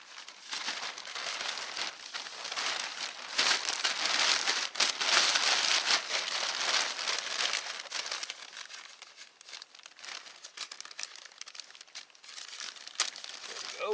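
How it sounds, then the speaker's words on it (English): Crinkly material is cut open at the bottom in a bushcraft shelter setting, a close, continuous crackling and crumpling with scattered sharper snaps, fairly faint and without speech. "Instead, I'm going to cut the bottom open."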